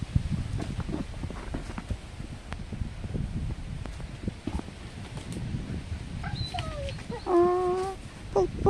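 Dogs pulling on a walk near a river whimper briefly, a few high thin whines near the end over rustling, shuffling footsteps and movement.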